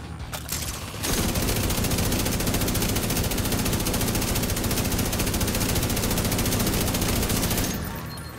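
Automatic turret in The Division 2 rattling off a long, unbroken burst of rapid gunfire, loud and dense for several seconds before cutting off, with no talking over it.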